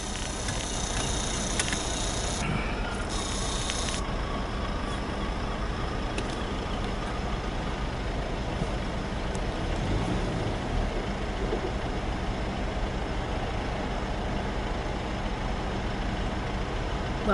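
Vehicles rumble while driving onto a ferry, with a dense, steady engine drone that sounds like trucks or buses close by, brief high hissing bursts early on, and no voices.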